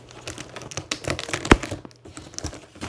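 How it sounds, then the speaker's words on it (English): Packing tape on a cardboard box for a studio softbox light kit being peeled off, heard as a quick run of crackly, ripping ticks with one sharp tearing pop in the middle, close and fairly loud. "Pop the tape off"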